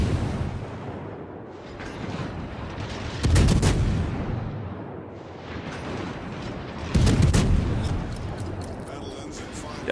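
Naval gunfire in a Worcester warship video game: two heavy booming salvos a few seconds apart ring out over a constant rumbling battle backdrop, with a player talking faintly underneath.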